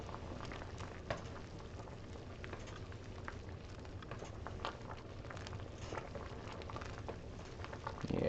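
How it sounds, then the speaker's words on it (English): Pot of dill pickle soup at a boil on the stove, a faint, soft patter of bubbling and popping, irregular and continuous, with a slight bump in level at the very end. "Now that it's at a boil, stir it again."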